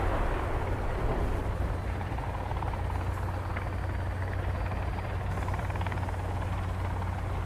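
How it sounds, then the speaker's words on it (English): A helicopter flies in the Sons of the Forest video game, its rotor making a loud, steady, continuous roar with a low thumping drone and no talk. "I'm in another helicopter."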